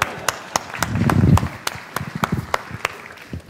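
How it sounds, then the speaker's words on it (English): Sparse, scattered handclaps from a small audience at a talk on family businesses, with uneven gaps between claps and a brief low murmur near the start. "Big clap"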